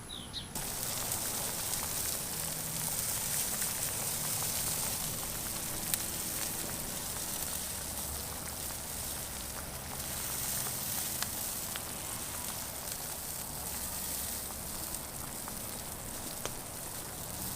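Beer brats simmering toward a light boil on an Oklahoma Joe's Blackjack kettle grill, a steady, even sizzling hiss that carries on unbroken at moderate level with no talk over it.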